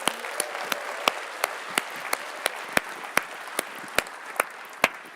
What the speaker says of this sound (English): let me ask you to give one big round of applause, finally, to all of our winners today